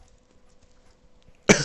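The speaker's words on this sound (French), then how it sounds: "vous allez m'entendre tousser et cracher mes glaviots tout le long de la soirée" A man with coronavirus gives a single sudden, loud, harsh cough at close range, coming after a near-silent moment of faint room noise.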